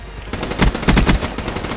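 Rapid bursts of HVK automatic gunfire in a shooter video game, several loud close volleys in quick rhythmic succession with no talk over them.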